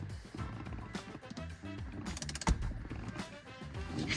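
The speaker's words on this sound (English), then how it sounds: "Make sure your wheel's torqued down to 27 foot-pounds." A ratcheting wrench tightens a carbon fibre steering wheel on a C6 Corvette, giving close, rapid mechanical clicks in repeated bursts with a louder clunk midway.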